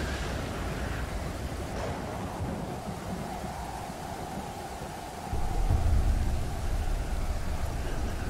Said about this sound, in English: Storms worse.